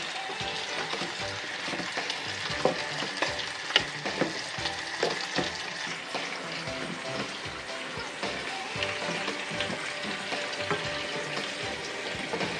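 Vegetables with pepper sizzle steadily in a hot pan while a utensil stirs and scrapes now and then, with occasional sharper clicks over the constant frying hiss.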